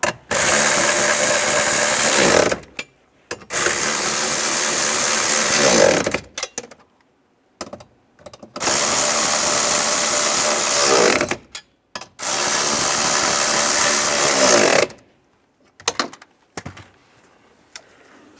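A power tool whirs loudly in three long bursts of a few seconds each, with short blips and pauses between, as bolts are driven tight during a heater core replacement on a 2007-2013 Chevy Silverado.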